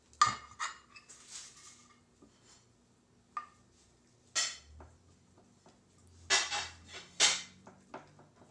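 Metal cutlery clinks and rattles against dishes in a kitchen drawer while a spoon is fetched, with irregular bursts of jangling close by and quiet gaps between.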